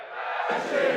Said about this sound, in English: thousands of Supa Strikas fans are gathered outside Strikerland, cheering El Matador on!